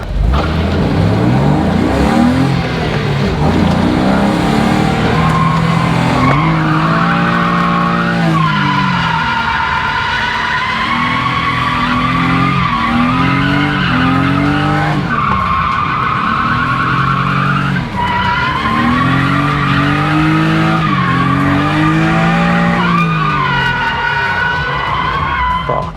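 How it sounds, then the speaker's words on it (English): A car drifts around a cone at a drift licence course, its tyres skidding and squealing in long, loud sweeps while the engine revs rise and fall continuously throughout, with no talking. "we did end up being able to hold the drift to the outside of that cone"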